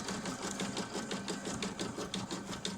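A home sewing machine runs a triple stitch on a boxy bag, a fast, steady mechanical chatter of needle strokes heard up close and continuous.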